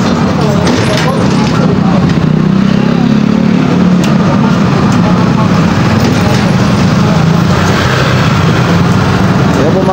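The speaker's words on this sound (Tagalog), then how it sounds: "Daming sasakyan dumadaan." Many vehicles pass along a busy roadside, a dense, continuous roar of engines and tyres with low rumble throughout and no clear gaps between them.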